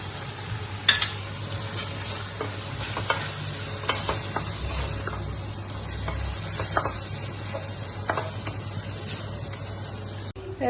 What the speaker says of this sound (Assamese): ঢেকীয়া ভাজি থৈছিলোঁ যে সেইখিনিত এতিয়া কণী এটা ভাঙি দিছোঁ